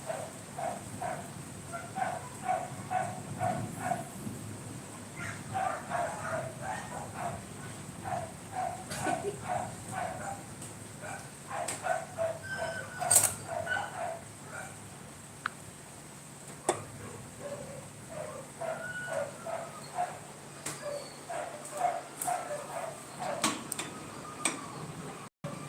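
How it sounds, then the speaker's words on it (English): Dogs bark repeatedly in the distance during rising floodwater in a rainstorm, bursts of barking coming and going over a quiet ticking background, with no talking. "You could hear the dogs barking because they're very uncomfortable because the water is getting higher."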